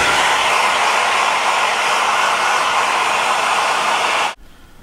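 A hair dryer blows steadily on painted clapboard walls of a model railroad structure, a loud, close, constant rush of air that cuts off abruptly near the end.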